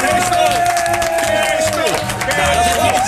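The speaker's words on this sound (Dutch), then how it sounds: "een groot ovationeel applaus voor Kees Stol." A studio audience at a Dutch TV show breaks into applause and cheers, with crisp claps under loud band music and voices.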